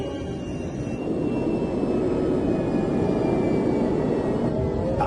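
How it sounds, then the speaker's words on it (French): Jet engines of a Boeing 737 airliner roar steadily and loudly while the plane brakes and slows on the runway, a continuous broad rumble and whine that swells after the first second. "L'avion commence à ralentir."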